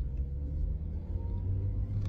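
A car with a manual gearbox drives along with a low, steady engine rumble and road noise inside the cabin, fairly quiet and without voices.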